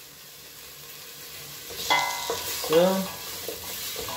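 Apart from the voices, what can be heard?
celery frying in a pan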